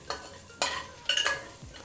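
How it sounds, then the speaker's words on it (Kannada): Vegetables for a simple pulao being sautéed in a pan: a few short scraping stir strokes with faint frying underneath, alone and fairly quiet. "ತರಕಾರಿಯನ್ನು ಹಾಕಬೇಕು ಚೆನ್ನಾಗಿ ಬಾಡಿಸ್ಕೊಳ್ಬೇಕು ಎಲ್ಲವನ್ನು"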